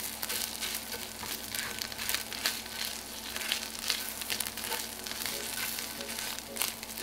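Garlic sizzles and crackles steadily in a pan over medium-low heat, a continuous, fairly quiet frying hiss with small pops and faint stirring.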